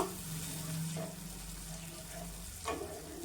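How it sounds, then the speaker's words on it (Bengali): Water is poured into a cooking pan of spicy fish roe curry, a steady hissing splash with sizzling, running continuously at close range with a brief louder surge near the end. "পরিমাণ মতন জল দিয়ে দিব।"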